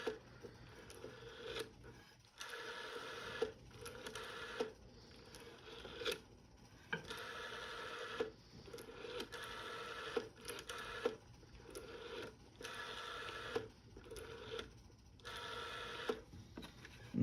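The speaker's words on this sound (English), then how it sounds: "I'll dial a few numbers, and it will show that the dial number registers" A 1981 Indetel wall phone being dialed, a run of repeated whirring and clicking dial pulses in bursts separated by short gaps, faint and close.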